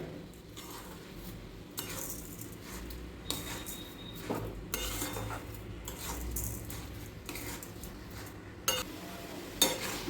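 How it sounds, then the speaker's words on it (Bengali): Grated carrots and sugar being stirred in a pan, a soft scraping and clinking of the spoon against the metal that repeats in irregular strokes at moderate loudness, with no talking. "এবার আমি চিনিটা গাজরের সাথে মিশিয়ে নেবো ভালো করে"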